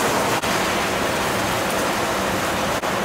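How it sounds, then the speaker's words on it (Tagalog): Heavy rain pours steadily in a dense, continuous hiss with no pauses, loud and close, while a pot of Ilocano-style tinola is cooked indoors. "Lakas ang ulan!"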